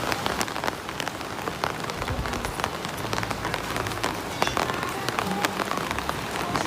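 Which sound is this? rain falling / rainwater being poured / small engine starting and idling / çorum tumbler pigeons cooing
rain falling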